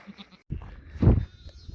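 Sheep and young lambs at a summer mountain pasture give a few short, faint bleats close by, separated by brief pauses.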